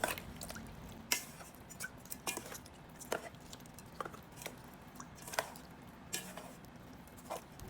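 A hand squishes and kneads pork marinating in soy sauce, pepper and lemon, giving soft wet squelches and drips that recur irregularly every half second or so, close and quiet with no talking.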